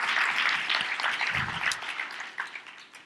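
A room full of people claps steadily, a dense patter of applause that gradually thins out toward the end.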